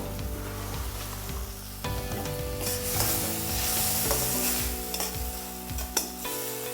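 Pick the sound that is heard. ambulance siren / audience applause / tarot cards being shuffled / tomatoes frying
tomatoes frying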